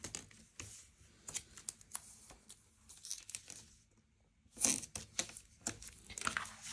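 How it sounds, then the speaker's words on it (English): Double-sided tape is run along the edges of a paper mini album, giving soft, close tearing and crinkling sounds in short scattered bursts, with one louder rip near the end. "So run your double-sided tape along each of these edges."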